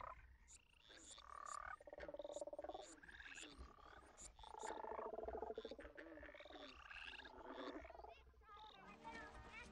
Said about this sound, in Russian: к примеру, лягушки. Они живут почти повсюду.